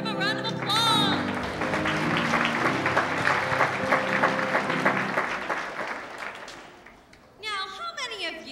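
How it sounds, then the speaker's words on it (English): Audience applause for a guest actor at a kids' performing arts show, steady clapping from a crowd lasting several seconds, fading out before a short burst of voices near the end. "Let's hear it for our guest actor. Give a round of applause."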